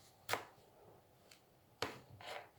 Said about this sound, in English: So this is the apple. I have to cut it again.